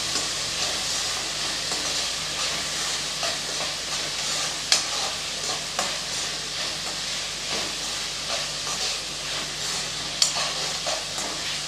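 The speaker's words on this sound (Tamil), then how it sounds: "எல்லாத்தையும் சேர்த்து நல்லா வதக்கி விட்டுக்கலாம்" Cinnamon, cardamom and stone flower sautéing in a pan, a steady dense sizzle and hiss with occasional stirring clicks throughout.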